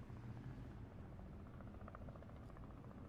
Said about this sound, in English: It's a helicopter. It keeps flying over.